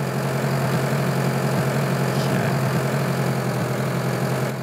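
A tractor engine in the video game Farming Simulator 2013 runs at a steady, even drone, loud and constant, with no voices.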